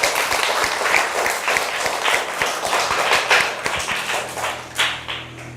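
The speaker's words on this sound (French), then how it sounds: "On applaudit pour vous." Applause honours a school in Kiyinya, Kindia, Guinea, at a community event. The crowd's clapping is dense and sustained at close range, with a few louder claps standing out near the end.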